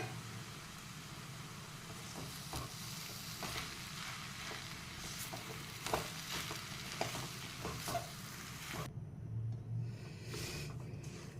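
A potato and poha mixture for burger tikkis being stirred and mashed together, giving a steady, close scraping and squishing that runs throughout with no talking.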